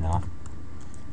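Rapid clicking of keys on a computer keyboard during a simple C++ programming lesson, light and fairly close, with a low steady hum behind it.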